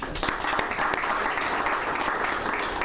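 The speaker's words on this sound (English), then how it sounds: "let's give a round of applause for all the scientists who are involved in this." Outdoor crowd applause at a university research institute groundbreaking ceremony, a short, dense burst of clapping with a few sharper claps standing out, moderately loud.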